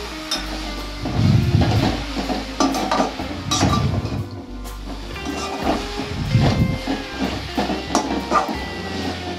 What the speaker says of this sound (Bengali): এটি দিয়েও ভালো করে আমরা গুড়টিকে গলিয়ে নেব।